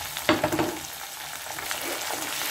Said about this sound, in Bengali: এটাকে আদা রসুনের গন্ধটা যাতে চলে যায় তখন পর্যন্ত এটা ভেজে নেব